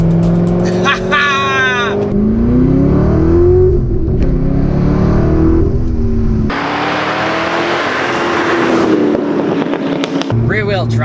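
A Chevrolet C6 Corvette Z06 with a manual gearbox roars loudly up through the revs, drops pitch on gear changes and climbs again as it drives hard, with a voice talking over the engine.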